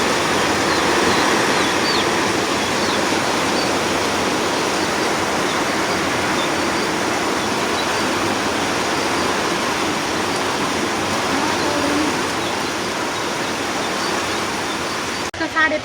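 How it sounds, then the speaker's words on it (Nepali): Heavy rain driven by wind in the early evening, a steady, loud, unbroken roar of falling water that stays close and even for the whole stretch, with no clear voices. "पानी परेको छ, हावा पानी चलेको छ"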